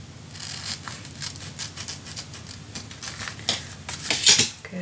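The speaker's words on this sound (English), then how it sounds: "Grab my scissors." Scissors cutting paper for a handmade mini album, a series of quiet, crisp snips and rustles close by, irregular in rhythm, with a louder cluster of cuts near the end.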